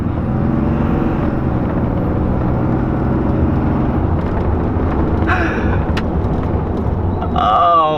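A 2017 Ram 2500 Cummins diesel pickup running an Edge Juice tuner on stage 3 gives a loud, steady engine roar throughout, building slightly toward the end as it accelerates.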